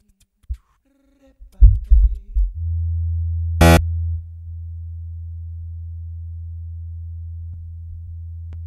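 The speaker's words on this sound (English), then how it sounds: "There you got your panning delay sub bass bass line" A deep, sustained sub bass tone from a Boss RC-505 loop station with panning delay hums steadily after a few short plucked notes, with one bright burst partway through.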